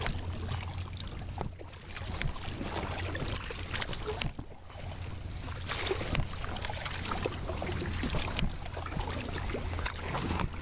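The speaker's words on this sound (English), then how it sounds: "Yeah, I can paddle now." A kayak glides over calm water as a paddle dips and splashes in soft, uneven strokes, with gentle trickling and light wind noise throughout.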